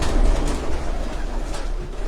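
Pigeons coo on a rooftop loft in Jalalpur Bhattian, a low, continuous murmur of cooing against steady broadband noise with no talking.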